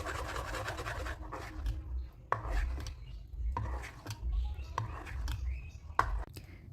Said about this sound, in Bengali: এবার ব্যাটারটাকে খুব ভালো করে হাতার সাহায্যে এইভাবে একটু মিশিয়ে নেব